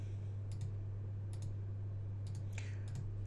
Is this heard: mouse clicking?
yes